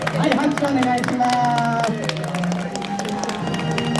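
An audience claps at the award ceremony of an autumn sports festival with mascot characters in Aomori. The steady applause runs under background music and crowd chatter throughout.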